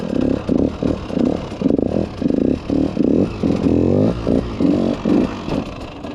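A dirt bike engine revs in quick, repeated bursts while the rider holds an enduro circle wheelie. The throttle pulses rise and fall in a steady rhythm, loud and close throughout.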